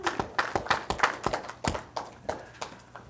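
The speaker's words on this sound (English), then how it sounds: "big round of applause for our track designers" Sparse audience applause at a tech talk, a handful of separate claps in an uneven rhythm, fairly quiet and without voices.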